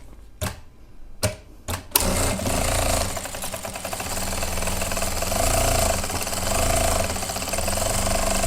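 Sewing machine stitching the hem seam of a plazo pant: a few short bursts at first, then a continuous loud rapid mechanical whir that runs steadily close up.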